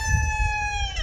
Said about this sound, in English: them cockerels that you can hear crowing